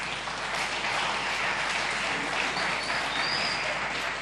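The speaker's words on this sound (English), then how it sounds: "Let's just give them a final round of applause." An audience gives a final round of applause at a morning gathering, with dense, sustained clapping that fills the room at an even level throughout.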